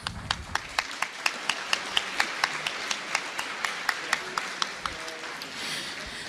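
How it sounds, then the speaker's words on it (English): Clapping from the audience after a keynote speech at a 2015 conference luncheon, a steady run of crisp, evenly spaced claps about three per second that carries on for several seconds before fading into room noise. "Ladies and gentlemen, please give him another big round of applause."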